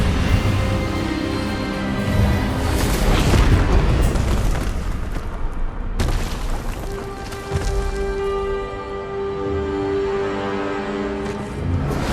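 In Hogwarts Legacy, the Expelliarmus spell lands amid loud, dense magical combat: rumbling bursts and sharp impacts, with a sudden crack about halfway and sustained ringing tones after it, a continuous roar with no quiet gaps.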